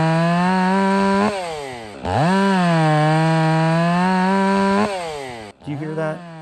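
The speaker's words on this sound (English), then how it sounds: "As I tugged up on the saw harder, I believe that the saw was getting more fuel and it really came alive." STIHL 500i chainsaw cutting wood under load, a loud close high-pitched engine whine that bogs and climbs as the bar bites, with a brief drop near the end before revving again.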